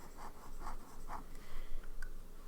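Fountain pen nib inked with PenBBS 503 Rose Powder scratching across paper in a few short, soft strokes, quiet and close with a faint background hiss.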